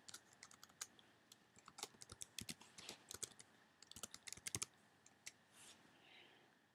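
Keys tapped on a MacBook Pro keyboard while typing into Safari: a quick, uneven run of crisp close clicks in bursts, quiet overall and alone, trailing off into a short pause near the end.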